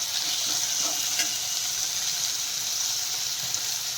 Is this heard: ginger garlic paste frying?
yes